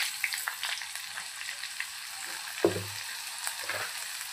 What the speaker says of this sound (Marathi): चला आपण भाजीला फोडणी देऊया.